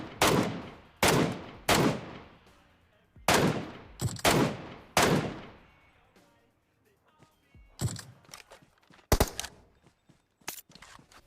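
MK14 rifle fire in the video game PUBG Mobile: a quick string of loud, sharp single shots with ringing tails, then a pause and a few more scattered shots, close and prominent.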